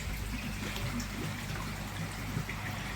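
Water trickles steadily from a koi pond filter shower in a garden pond setup, a continuous close splashing and dribbling wash with no pauses.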